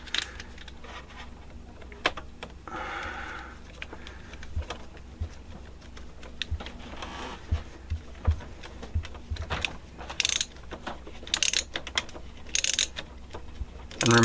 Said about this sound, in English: hopefully we can get our small nut driver back over here on that side. And then screw that screw back in.